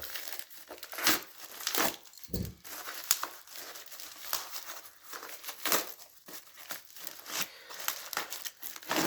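Crinkling and tearing of a plastic vacuum-sealed envelope as a mail-order parcel holding a combination zipper lock is opened, steady rustling handled close up with sharp crackles throughout and no talking.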